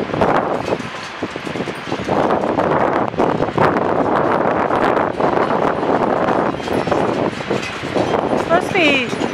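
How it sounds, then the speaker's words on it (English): Gusty wind storm roars through trees outdoors, supposedly reaching 60-mile-an-hour winds, with steady loud rushing and buffeting wind noise on the microphone throughout and brief rustling near the end. "Supposed to be 60-mile-an-hour winds."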